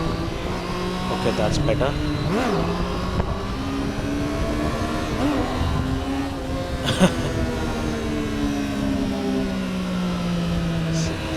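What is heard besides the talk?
Triumph Street Triple 765 R motorcycle engine accelerating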